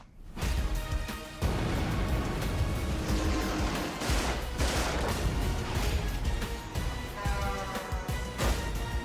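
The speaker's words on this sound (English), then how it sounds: "a lot of guns?" Dense, continuous bursts of gunfire and crashing impacts from an action movie trailer, loud and sustained throughout with scattered heavier blasts.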